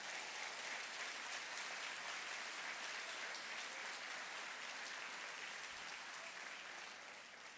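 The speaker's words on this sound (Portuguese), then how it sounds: "pode aplaudir a Jesus" Congregation applauding at a state church congress, a dense, steady wash of clapping from a large crowd that holds at an even level before tapering slightly at the end.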